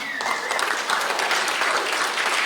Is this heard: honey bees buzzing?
no